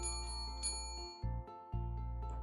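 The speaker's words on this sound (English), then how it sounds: "You ring the little bell on the countertop." A small countertop bell rings in the video game Frost Bite, a butcher-shop scene; a clear metallic ding sustains and rings out over a steady low in-game hum, with a second strike following soon after.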